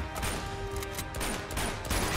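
Rapid gunfire in the video game Uncharted 2, a dense, steady stream of shots, fairly quiet and continuous, with no talk over it.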